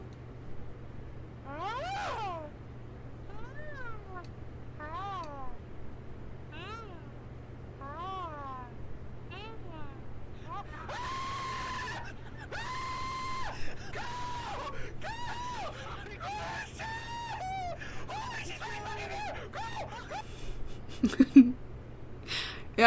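Cartoon-style recorded sound effects from Happy Tree Friends play back: a run of squeaky, chirping vocal noises, then a sharper scream-like cry near the end, all fairly close over a steady low hum.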